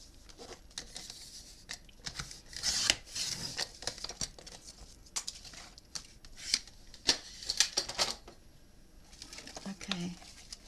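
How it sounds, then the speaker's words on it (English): Scissors cut paper while handmade birthday cards and envelopes are being made, giving soft, quiet snips and rustles in irregular bursts. Talking is not evident. "You can use scissors."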